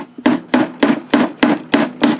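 Seven evenly spaced sharp taps of a short ball peen hammer driving a metal blind nut into wood on a Singer Featherweight case, loud and close with no talk.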